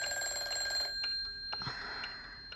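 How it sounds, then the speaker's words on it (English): An old-style telephone bell rings in a rapid metallic trill for almost a second, then shorter rings with a softer sustained tone trailing after, moderately loud with no talk. "Answer the phone, Jenny."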